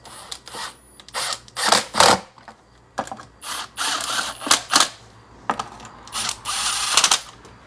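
Reinstalling the ignition coil cover on a Nissan X-Trail T30 with hand tools, a series of loud close ratcheting and whirring bursts separated by short pauses.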